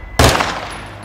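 A short, loud burst of M4 rifle fire in Call of Duty: Modern Warfare II, a sharp close crack that rings out and decays over about a second.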